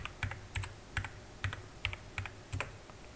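Keys clatter on a computer keyboard as a Ruby run command is typed, about nine crisp, evenly spaced close keystrokes with no talking.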